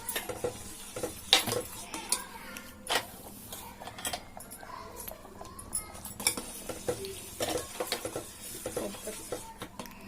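Chana dal stirred in a pan: a spoon scrapes and clinks against the metal in quick irregular strokes, with a soft sizzle underneath, close and fairly quiet.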